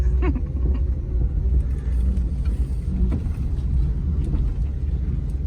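A 1956 Chrysler New Yorker four-door with a Hemi engine running, a steady low rumble close by with slight fluctuations and no clear revving, heard without speech.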